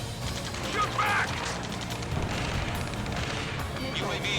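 Gunfire and explosions in Ace Combat 7: Skies Unknown form a busy, continuous clatter with booming hits, layered under radio chatter from voices speaking throughout.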